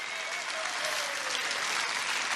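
A large crowd at a Trump rally in Cedar Rapids, Iowa, applauds in a dense, continuous roar of clapping that stays steady and loud throughout, with no speech over it.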